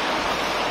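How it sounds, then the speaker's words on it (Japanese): A nearby river flows with a steady, broadband rushing wash, heard briefly and alone at a moderate level beside a remote hideaway. "川の音が"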